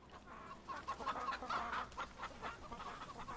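Chickens in the Fable III video game cluck in a series of short bursts, busy and irregular, fairly faint and with no voices over them.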